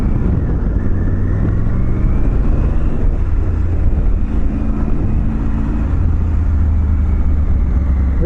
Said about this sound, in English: You've got that low-end twin sound, and then as you get up the rev range, it turns into a triple.